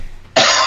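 A man gives a sudden, loud, harsh cough after a brief quiet moment, the burst carrying on strongly to the end.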